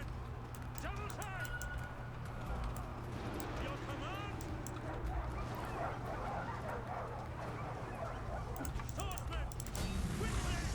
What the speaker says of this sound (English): Oh, war dogs behind us.